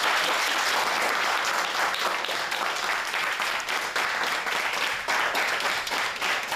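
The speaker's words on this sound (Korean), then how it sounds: "네, 박수!" A class of students at a Korean coding session on programming their own clocks with Arduino breaks into sustained applause, a dense, loud stream of clapping that continues steadily throughout without talk.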